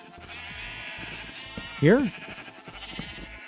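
A Minecraft sheep lets out one short wavering bleat midway, loud and close, over quiet game background while someone talks through the rest.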